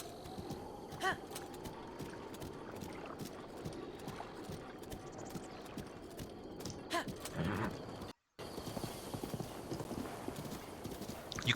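Horse hooves clip-clop in a steady gait up a rock slope in a Zelda video game, heard against constant game background noise at moderate level, with a brief dropout near the end.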